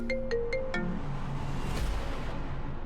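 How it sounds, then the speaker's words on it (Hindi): A phone rings indoors with four quick electronic chime tones in a rising pattern, followed by a fading hum of room tone and no talking. "नमन काकू का फोन"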